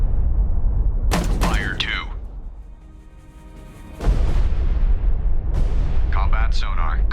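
A destroyer's depth charges fire in a naval video game, loud booming launches that hit hard and then rumble away, while a voice calls out orders between the blasts.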